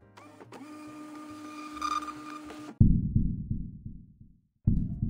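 A printer in a video game office runs for nearly three seconds with a whirring mechanical tone, then gives a series of sharp, loud clacking feed strokes, a brief pause, and more clacking.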